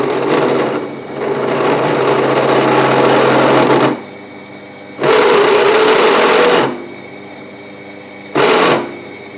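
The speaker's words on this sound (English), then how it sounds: "I've put the metal countersink in the pillar drill" A pillar drill with a metal countersink bit whirs loudly in several long bursts countersinking metal, its steady motor pitch changing slightly as the bit cuts, with brief lulls between runs.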